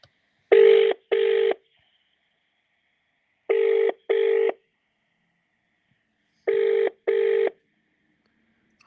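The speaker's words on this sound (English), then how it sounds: "Let me just quickly call him now." A phone call rings out on the line: a double-pulse ringing tone repeats three times at regular intervals, clean and steady, with silence between each pair.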